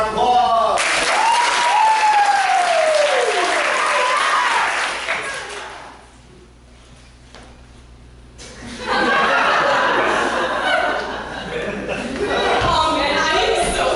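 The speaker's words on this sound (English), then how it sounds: "start them off with a round of applause" Audience applause and laughter at a youth summer camp improv showcase, a broad wash of clapping with chuckles and cheering voices, easing off midway before swelling again; a voice sings or calls out a rising tone early on.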